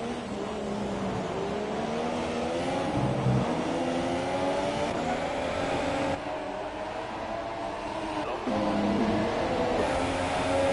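Formula 1 cars racing in the F1 2017 video game at the British GP, a pack of engines droning and revving steadily and loudly for the whole stretch with no talk.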